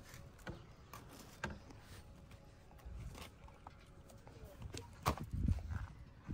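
A horse pulling a carriage buggy clip-clops with irregular, close hoof strikes on a hard surface, some louder than others, while a voice speaks underneath.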